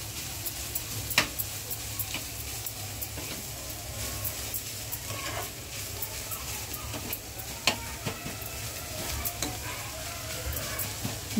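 Coconut and wild greens (takla bhaji) stirred and fried in a pan at home, a steady close sizzle throughout with occasional scraping knocks from the spoon.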